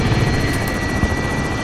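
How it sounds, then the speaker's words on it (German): A helicopter in the video game Call of Duty: Warzone thumps steadily and loudly, its rotor chopping in a fast, regular beat over a dense whine of engine noise. "Ach, der Heli spallert."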